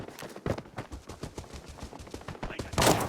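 Shots from an MK14 rifle in a shooter video game snap out in quick, uneven bursts at moderate distance, then a louder burst closes the sequence.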